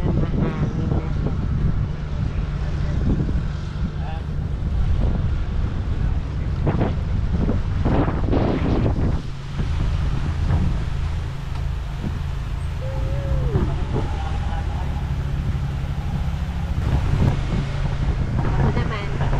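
Wind roars across the microphone on a moving yacht, a loud continuous low rumble with gusty bursts, and faint voices talk beneath it.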